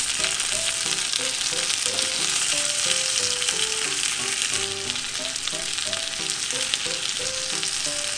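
Chicken pieces for a teriyaki-mayo rice bowl fry in a pan after being turned over, giving a loud, constant, close sizzle that carries on beneath a light melodic music track.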